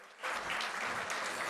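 An audience at an international Punjabi conference breaks into dense, sustained applause that swells after a brief pause and carries on loudly.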